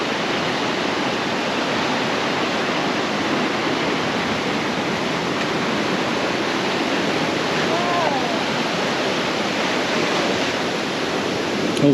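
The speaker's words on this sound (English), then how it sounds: "Oh wow, another waterfall, look at that." Waterfall on the Lost Coast Trail along the remote California coast, a steady loud broadband roar of falling water that holds unbroken and close throughout.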